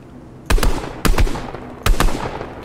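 Gunfire in Fortnite: three sharp, loud volleys about half a second to a second apart, each a quick double or triple burst of close-range shots over a steady game background hum.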